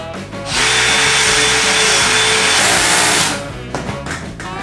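A power drill on a low torque setting drives screws into a ceiling frame, whirring steadily for about three seconds, then winding down, with a few clicks and handling noises around it.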